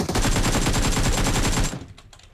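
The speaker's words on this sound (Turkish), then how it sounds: "Ben burada arkadaşını vuruyorum" Automatic gunfire in PUBG Mobile, a rapid sustained burst of shots lasting under two seconds, loud and close, then cutting off to near silence.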